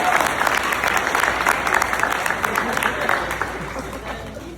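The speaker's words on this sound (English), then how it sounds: "let's get another clap for Coach Victor." Applause from a crowd at a boys' volleyball banquet, close and sustained clapping that carries through the whole stretch, with some crowd murmur under it and a slight fade near the end.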